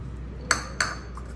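Raw mango slices drop into a mixer jar, making two sharp metallic clinks a moment apart, then a fainter third tap, in an otherwise quiet kitchen.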